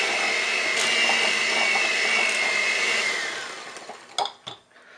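An electric mixer whirs steadily at high speed beating eggs into cake batter, then winds down and stops, followed by a few clinks and knocks of the beaters against a bowl.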